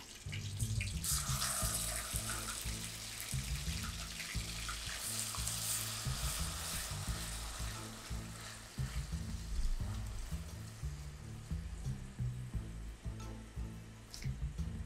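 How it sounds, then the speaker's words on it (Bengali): Onion paste fried in hot oil with spices for an egg korma: a continuous close hiss and sizzle with a bubbling, watery texture, a few sharper spatters and scrapes, steady for several seconds without talk. "এখন আমি এটাতে বাটা পেঁয়াজ দিয়ে দেব।"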